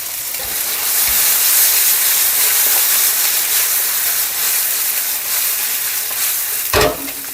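Salmon sizzling loudly in olive oil in a frying pan, a dense continuous crackle and hiss close up, with a brief clatter near the end.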